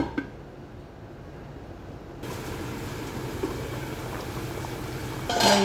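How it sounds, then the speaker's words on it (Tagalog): Chicken stew with potatoes and a little added water simmering in a covered pot, a steady bubbling hiss that grows louder partway through and swells further at the end. "kumukulo na yung ating ulam"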